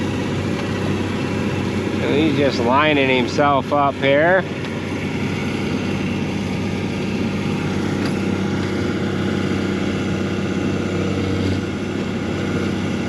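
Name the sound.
farm tractor engine running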